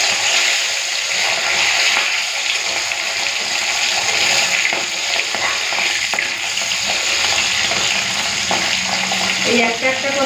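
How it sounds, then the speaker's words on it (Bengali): A single fish fries in hot oil, a loud, close, rolling sizzle with occasional clatter as it settles in the pan. "এখন এক একটা মাছ ভেজে নেব"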